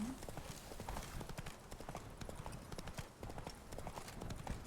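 Roach, a horse in The Witcher 3, clip-clops along at a steady trot, with rapid even hoofbeats that stay faint and close throughout and a brief voice at the very start.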